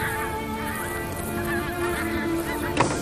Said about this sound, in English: Bigford and geese sound lovely